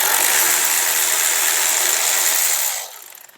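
A ratchet loosens an upper brake caliper bolt on a Mercedes GLE, a steady loud mechanical whir that runs alone for nearly three seconds before cutting off abruptly.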